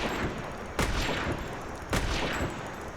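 Sniper rifle firing as fast as the trigger allows in Primal Carnage Extinction: a few loud, close shots spaced about a second apart, each a broad blast that fades into a steady roar of game noise.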